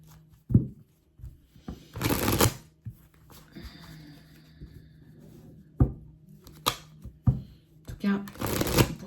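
Médéors oracle cards are shuffled in a few quick, riffling bursts separated by quieter gaps, close and crisp, while someone speaks in between.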